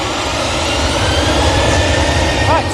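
A TUI fly airliner departs Manchester Airport bound for Zakynthos, its jet engines a loud, steady broadband roar that holds without a break throughout.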